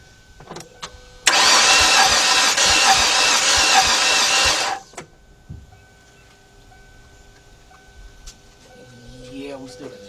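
A 2006 Kia Sportage with a 2.7 engine cranks for about three and a half seconds with a loud, even starter whir but doesn't catch, then stops; quieter clicks and shop noise follow.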